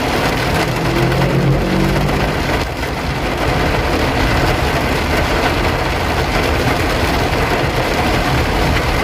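Rain drums loudly and steadily on a 2008 third-generation Honda CR-V 2.0 automatic while it is being driven, a dense continuous wash over a low engine rumble throughout.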